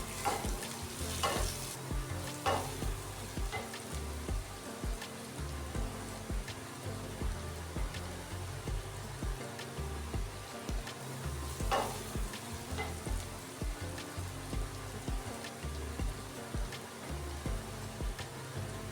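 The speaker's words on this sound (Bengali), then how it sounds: "সেই ভাতটা কড়াইতে দিয়ে খানিকক্ষণ ধরে ফ্রাই করতে হবে" Rice stirring and frying in a wok, a steady sizzle with repeated scraping and clattering from a spatula, close and continuous with no talking.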